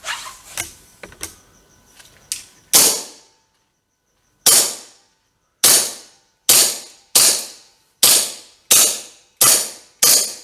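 A Wells Beretta M92 FS CO2 gel blaster pistol fires about ten sharp, loud cracks, a few rapid ones at first, then evenly spaced single shots with clear gaps between.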